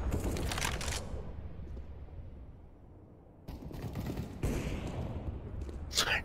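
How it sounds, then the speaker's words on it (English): Video game gunfire blasting through a wall, loud bursts of rapid shots at the start and again near the end, with a quieter lull between and no talk over it. "Shoot through that wall to your left, George."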